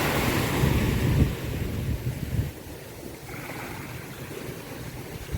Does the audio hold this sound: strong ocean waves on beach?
yes